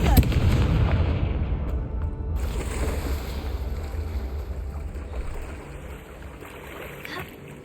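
In Hogwarts Legacy, the Confringo fire spell goes off as a loud, booming blast at the start, followed by a rumbling, fiery roar that gradually fades away over several seconds.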